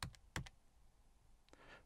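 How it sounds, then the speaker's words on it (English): A few quiet, crisp keystrokes on a computer keyboard: two quick presses close together, a pause, then another pair, as arrow keys step frames in Adobe Premiere Pro. "just press the left and the right keys."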